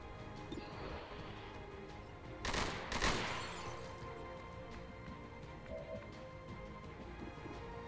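Gunfire in the tactical video game XCOM 2 with a Modern Warfare mod: a loud, broadband burst of shots around the middle, over a steady bed of game ambience.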